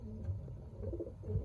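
A racing pigeon back at its loft after a 300-mile race gives soft, low, breathy coos, faint against a quiet outdoor background.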